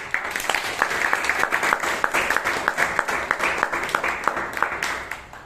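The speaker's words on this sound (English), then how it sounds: "A round of applause." Applause from a Toastmasters meeting audience, a crowd clapping with some individual claps standing out as sharp, fairly regular beats over the general patter, sustained for several seconds.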